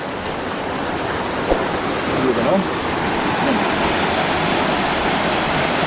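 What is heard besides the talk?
river water running down from Penfield Falls, Jamaica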